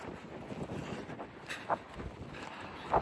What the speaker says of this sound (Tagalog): Sobrang mahangin sa amin